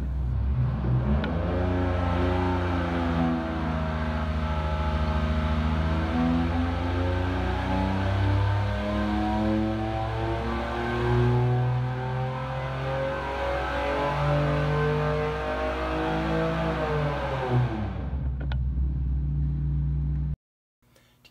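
A turbo 3800 V6 engine runs naturally aspirated during an intake test, a loud close rumbling idle with rising and falling revs that holds steadily for about twenty seconds before cutting off abruptly.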